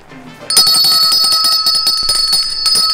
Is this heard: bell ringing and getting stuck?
yes